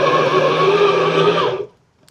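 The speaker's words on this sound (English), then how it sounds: "So cap that on, and we're going to give it a nice little quick" A blender whirs steadily at full power, blending chilies into a mash, then cuts off abruptly after about a second and a half, leaving near silence.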